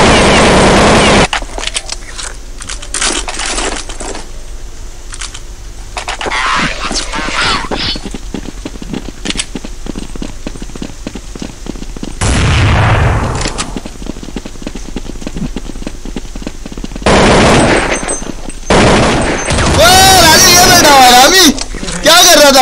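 Counter-Strike 1.6 gunfire, rapid bursts of loud, sharp shots in several clusters mixed with other game sounds, while players talk over it almost constantly.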